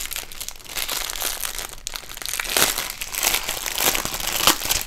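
Plastic packaging of a diamond painting kit crinkles and crackles steadily as it is opened, loud and close with dense rustling bursts throughout.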